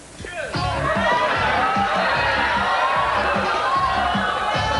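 A game show studio audience calls out answers together, a dense mass of overlapping voices that rises quickly after a quiet start and stays loud and close for the rest.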